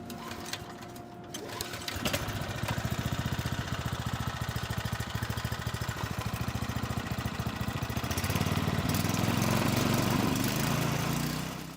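A small engine mounted on a home-built competition vehicle is started and then runs with a steady, fast, buzzing putter that grows slightly louder near the end, close by with no talking.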